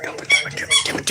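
A dog's squeaky toy lets out several short, sharp squeaks in quick succession, close by, with some voices and movement in the room.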